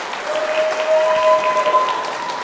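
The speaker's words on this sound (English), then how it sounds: "Along with that applause" Wedding guests applauding at a reception at Glass Hill Venue in Goode, Virginia, a steady wash of clapping held at an even level, with a faint sustained tone running beneath part of it.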